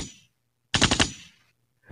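A short, loud burst of rapid machine gun fire rattles out alone, several shots in quick succession after a moment of silence.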